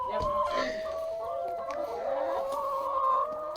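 Hens in a farm coop with no rooster cluck steadily at close range, their calls running under a person talking throughout.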